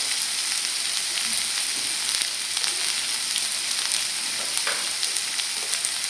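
Onions sauté in a pan for Kerala semiya upma, an even, dense crackling sizzle much like light rain, with a few faint stirring knocks and no voices.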